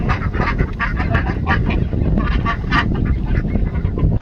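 Geese honk loudly in a barn during winter bird care, a dense, continuous chorus of close, overlapping honks with some duck-like quacks mixed in.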